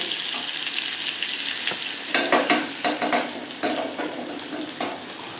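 Chopped garlic goes into mustard oil tempered with whole cumin and dried chilli, and the tadka sizzles in a steady hiss that swells into louder crackling bursts and stirring scrapes partway through, close up with no voices.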